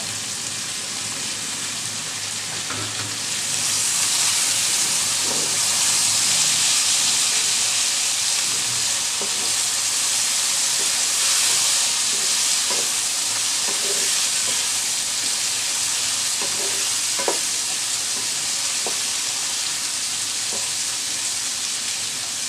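Mixed vegetables with shrimp, including thinly sliced teasel gourd and long beans, fry in a pan with a steady loud sizzle and hiss, broken by soft intermittent scrapes and clinks of stirring; no voices.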